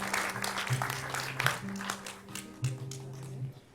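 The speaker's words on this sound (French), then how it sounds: "Allez, on les applaudit." Audience applause for a singing duo at a live performance: a moderate, uneven patter of clapping swells and fades over a few seconds, with a low steady hum beneath.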